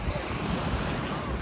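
Ocean surf washes onto a beach beside a boardwalk in a brief, loud rush of waves mixed with heavy wind buffeting the microphone.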